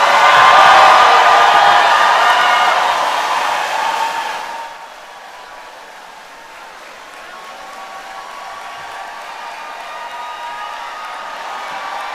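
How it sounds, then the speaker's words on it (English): A large crowd cheers and whoops at a university commencement ceremony, loud and roaring for about four seconds before fading to a quieter hall murmur. "And Provost Ramsaran, that cheer was for you."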